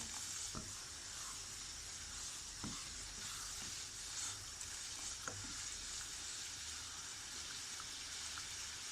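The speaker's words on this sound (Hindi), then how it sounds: "पानी हमारा बॉयल हो रहा है।" Sugar syrup for balushahi comes to a boil in a pan, giving a steady fizzing, bubbling hiss with a few soft pops and clinks, close and fairly quiet, with no talking.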